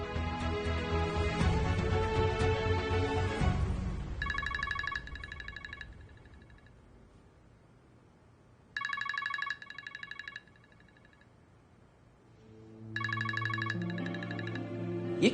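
A mobile phone rings in repeated bursts of an electronic ringtone: a loud stretch of music, then short beeping tone patterns separated by near-silence, heard at moderate volume in a television drama scene.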